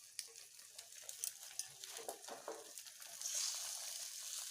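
An omelette and potato kadhi curry fries in a pan with a soft, steady sizzle and scattered small pops, faint and close, the hiss swelling a little toward the end.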